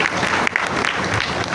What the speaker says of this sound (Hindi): अली के लिए तालियां भाई